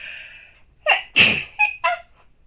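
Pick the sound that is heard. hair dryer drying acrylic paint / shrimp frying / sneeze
sneeze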